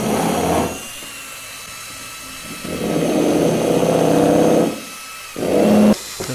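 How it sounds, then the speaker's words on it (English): Power drill driving screws into a wooden trimaran hull during a sailboat build, with bursts of whirring on and off: two long runs and a short final burst, close by, between pauses. "When I'm screwing, Rex, when I'm screwing."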